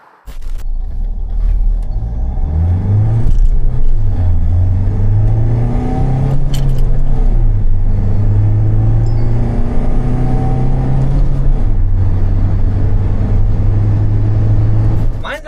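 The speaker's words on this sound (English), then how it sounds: "And this car, it cruises well." A 2021 Mahindra XUV700 SUV with a 2.2 litre mEagle diesel engine cruises along a mountain road, its loud, steady engine drone rising and falling gently with throttle amid constant road rumble.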